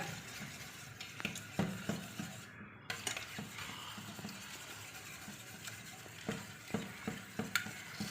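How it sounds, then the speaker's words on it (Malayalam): Eggs whisked by hand with coconut milk and palm jaggery for vattayappam batter: quiet, close, rhythmic clinking and swishing strokes against the bowl, repeating in quick bursts with no one talking. "നല്ലതുപോലെ വിസ്ക് വെച്ച് ഇളക്കി കൊടുക്കുക"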